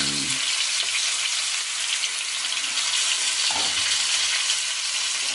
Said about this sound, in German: Des guten Geschmacks wegen kommt jetzt noch ein Stück Butter rein.